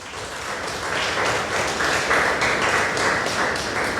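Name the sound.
congregation applause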